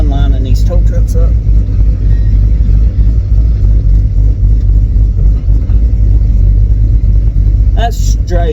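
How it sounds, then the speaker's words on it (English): A tow truck engine rumbles loudly and steadily at low pitch as it is maneuvered into line, with brief revving and people talking over it. "Always fun lining these tow trucks up."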